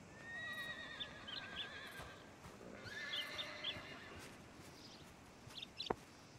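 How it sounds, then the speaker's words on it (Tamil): Horses pulling a wagon in Red Dead Redemption 2 whinny twice, with soft clip-clop hooves and a faint bird call, moderately close and without any talking. "வேகன்னா இந்த குதிரை வண்டி தானே."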